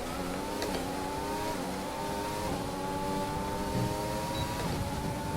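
An F1 race car in the F1 2020 video game accelerates with the overtake boost while its ICE is faulty, a loud, steady engine whine with repeated rising pitch sweeps through upshifts.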